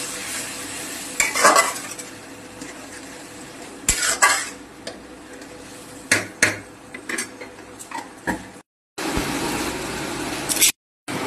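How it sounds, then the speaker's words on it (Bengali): Fish curry gravy with turmeric and chili powder coming to a boil in a pan, with soft bubbling under intermittent stirring scrapes and clinks of a spoon against cookware, close and moderately loud. "ঝোলটা ফুটে উঠুক। এখানে হলুদ গুঁড়ো দিয়ে দিলাম, সামান্য লঙ্কার গুঁড়ো দিয়ে দিলাম।"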